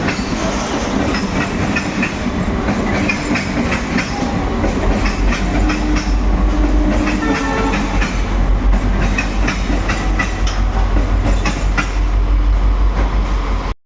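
Train noise at Santragachi railway station, a steady loud rumble with rhythmic clickety-clack of wagon wheels running close by for the whole stretch, with no talk over it.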